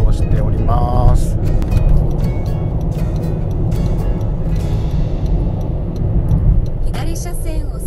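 A car cruises along a Japanese expressway in Hyogo during a holiday road trip. A steady road and engine rumble runs throughout, with a voice talking over it and brief chimes near the end.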